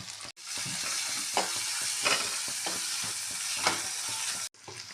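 Coarsely crushed ginger and garlic frying in a pan for pav bhaji, a bright steady sizzle with repeated light stirring scrapes, close and moderately quiet, cut off briefly at the start and end.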